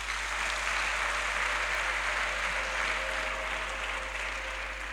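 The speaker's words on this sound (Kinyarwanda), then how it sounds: "Nimuyikomera amashyi." A church congregation at a prayer service claps together, a dense, continuous applause that stays steady and loud throughout, with no speech over it.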